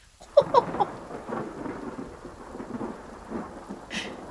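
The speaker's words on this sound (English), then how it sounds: "Just in time for the heavy rain." Heavy rain pours steadily in the Hytale video game while close thunder cracks sharply near the start and low rumbles follow, ending with a brief hiss.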